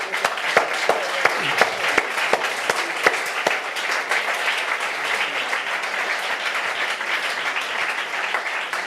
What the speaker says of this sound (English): We've got to give these families a clap again